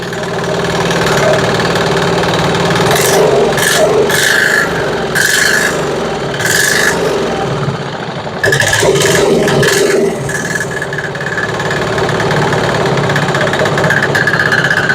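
A small Chinese 168F single-cylinder diesel engine running on homemade diesel fuel, a loud close rattling, knocking idle with a rasping edge that steps up and down as the throttle changes.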